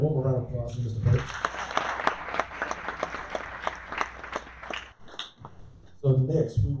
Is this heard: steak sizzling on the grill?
no